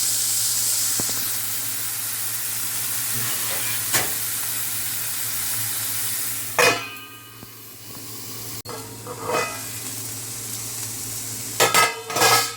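Eggplant cooks under a lid in a pan for a Telugu prawn-eggplant curry, a soft continuous sizzle and steam hiss broken by occasional clinks and louder bursts of frying.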